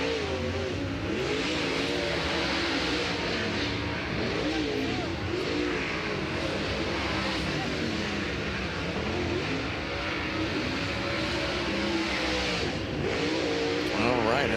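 Sprint race cars accelerating around Florence Speedway during a High Limit Racing group session, a dense continuous engine roar with shifting pitch as several cars run at speed, under a steady crowd-and-track din.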